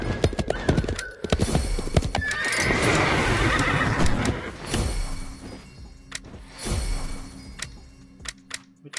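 A horse in a video game neighs loudly with a long whinny, joined by clip-clopping hoofbeats and scattered game effects, with no talk.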